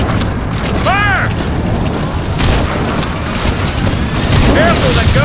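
Gunfire and explosions in the video game Metal Gear Solid 5: loud continuous booming and crackling battle noise throughout, with brief shouted voices rising over the din.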